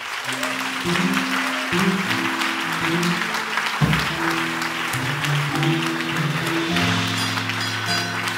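A church congregation applauds during a worship service, a steady wash of clapping running throughout alongside sustained keyboard or organ chords.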